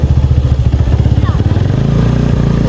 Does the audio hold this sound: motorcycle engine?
yes